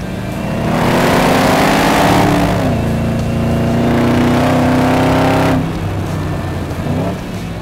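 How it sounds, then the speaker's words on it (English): HSV LSA supercharged V8 engine fitted with the W557 performance package and its WP Spec camshaft, running close up with a loud, steady rev held for several seconds before settling back toward a lumpy idle. "the new W557 package includes a more aggressive idle by way of our WP Spec Cam Shaft"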